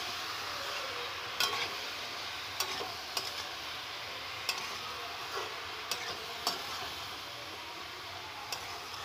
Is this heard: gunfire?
no